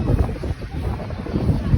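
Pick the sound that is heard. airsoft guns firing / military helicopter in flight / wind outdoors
wind outdoors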